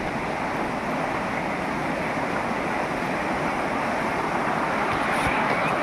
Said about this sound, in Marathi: पाण्याचा आवाज येत आहे. कोयना नदी आहे बाजूला.